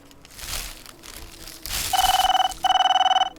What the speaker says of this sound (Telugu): అమ్మా ఫోన్ వచ్చింది